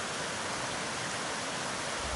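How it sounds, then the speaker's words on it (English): Steady broadband roar of Roaring Fork Falls, a North Carolina waterfall, as water rushes down over rocks, constant and loud with no voices. "You can see the waterfall coming down."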